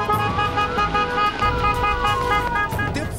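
Car horns from app-based ride drivers toot repeatedly in a funeral procession, mixed with steady traffic noise and engine rumble, sounding busy and close.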